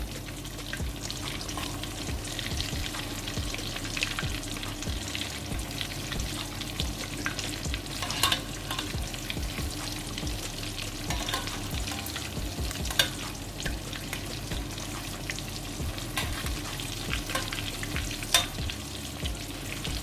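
Fish fries in a pan of oil with a steady, dense crackling sizzle that runs unbroken at close range, dotted with occasional sharper pops.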